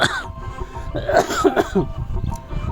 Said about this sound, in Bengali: আমার কাশি করেছিল